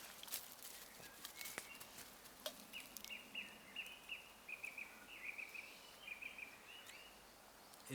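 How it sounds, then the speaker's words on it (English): A bird sings outdoors near a handmade bushcraft shelter in the woods, a series of faint, high, repeated chirping phrases over a quiet background, with a soft rustle or footstep now and then. "listening to this bird singing"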